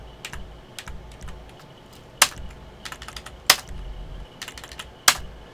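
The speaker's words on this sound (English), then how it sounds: "Technically, I don't use the mouse. I just use the keyboard." Computer keyboard typing during a session of GTA5 Online racing, with a steady patter of clicks and three sharp, louder key strikes spaced a little over a second apart, no talking.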